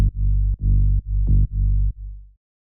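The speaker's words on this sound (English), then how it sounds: "we want a low analog-inspired bass line that's nice and warm and has some subtle pluck movement to it." A warm, analog-style synth bass plays from the Serum preset Dusk, built on a Minimoog-style wavetable with a subtle pluck. About five low, round notes play in a steady rhythm, clean and alone, the last one fading out.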